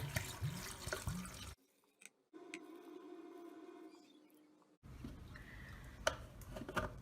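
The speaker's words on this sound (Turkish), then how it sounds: "kalan kısmına da su ilave ediyoruz" Water being poured into a jar of cracked green olives, a faint thin trickle and gurgle between louder handling noises, sounding close and quiet.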